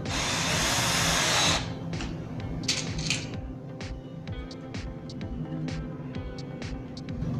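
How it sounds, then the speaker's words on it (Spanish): Power drill driving a screw into melamine furniture panel, a loud steady whir for over a second that stops abruptly, followed by quieter clicks and small knocks of handling nearby. "puedes colocar el tornillo, vas despacito y una vez que agarren el material, si puedes apretar con confianza"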